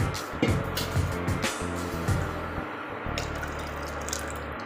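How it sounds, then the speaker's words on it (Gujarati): Water is poured into a pot of Gujarati dal cooking on the stove, giving a faint splashing trickle over a low steady hum, with a few soft clinks of utensils nearby. "હવે આમાં થોડું પાણી એડ કરીશું।"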